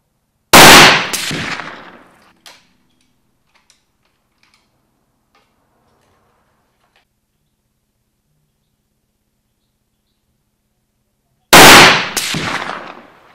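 Two loud rifle shots from a 270 WSM firing Norma Kalahari bullets, one at the start and another about eleven seconds later, each with a sharp crack and a trailing echo, separated by near silence.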